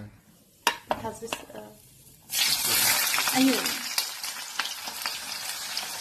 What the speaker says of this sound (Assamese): পিঁয়াজখিনি ফাৰ্ষ্টত ভাজি দিছোঁ